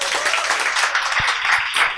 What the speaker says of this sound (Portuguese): Uma salva de palmas para Henrique Vieira.